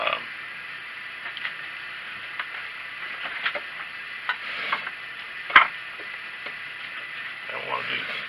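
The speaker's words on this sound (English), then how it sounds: "Next thing, we could use a spoke shave." A spokeshave shaves wood on a homemade marking knife, making short rasping strokes close by at an uneven pace over a steady hiss, with one sharper scrape near the middle.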